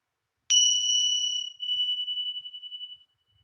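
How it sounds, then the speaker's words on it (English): A small meditation bell is struck once to open a session, ringing out with a clear bright strike and then a long, slowly fading shimmer in an otherwise quiet room. "Let's officially start our session with the sound of a bell."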